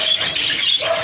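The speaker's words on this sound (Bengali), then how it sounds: "আর কিছু এপাশেও আছে জেব্রা ফিঞ্চ, সব 2 পেয়ার করে রাখা আছে" Zebra finches kept in pairs in a home aviary give a quick burst of high, nasal chirps, loud and close, lasting about a second.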